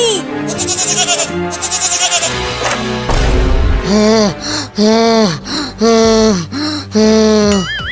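Loud, close goat bleats in a comic cartoon chase with a wolf: a series of wavering, drawn-out cries repeated in quick succession after some earlier music.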